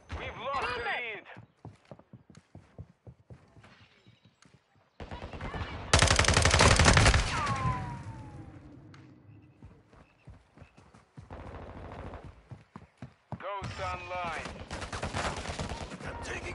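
Rapid bursts of gunfire in a Call of Duty multiplayer match, sharp volleys crackling loud then quieter in stretches, mixed with explosions and chatter from radio voices.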